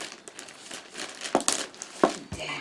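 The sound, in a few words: opening crinkly plastic packaging of FFP2 face mask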